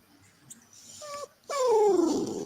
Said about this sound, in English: The dog's reacting.